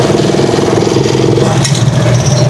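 A motorized tricycle engine runs steadily, a loud, close mid-pitched drone with a rough low rumble and slight pulsing throughout.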